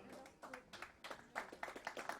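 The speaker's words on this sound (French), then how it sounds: "On peut l'applaudir encore une fois, le nouveau leader de cette Bercycle" A crowd claps for the new leader of the Bercycle time trial, a cycling event. The applause is moderate and uneven, with bursts of claps that build toward the end.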